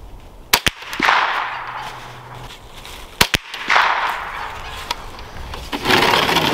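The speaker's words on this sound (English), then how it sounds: "I'm just shooting at a little box down there." Outdoor .22 rifle shots at a small box downrange: two sharp, fairly quiet cracks close together, then another pair a few seconds later, each followed by a wash of outdoor ambience and a faint echo.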